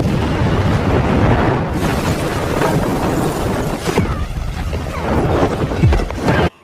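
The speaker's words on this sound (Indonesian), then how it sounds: "Setelah ledakan itu" A bomb blast in the 2021 action film The Protégé, a loud sustained roaring rumble lasting several seconds, easing briefly near the end and then cutting off sharply.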